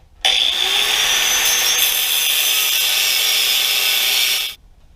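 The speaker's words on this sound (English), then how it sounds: "I'm going to go ahead and grab the angle grinder," An angle grinder cuts a patch out of a steel truck frame, a loud, steady high-pitched whine with a harsh metallic grind that starts abruptly and runs unbroken for over four seconds before stopping.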